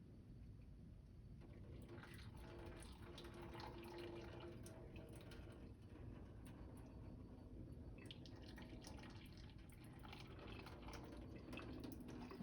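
Curdled milk mixture poured through a strainer, a steady trickling and dripping of liquid with constant splashing running throughout, close and moderately loud.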